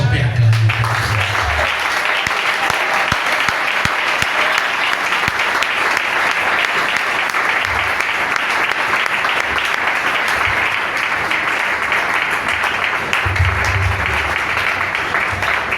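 A church congregation applauds during a French-language sermon, a dense sustained clapping that holds steady and fairly loud throughout, with some voices mixed in near the start and end.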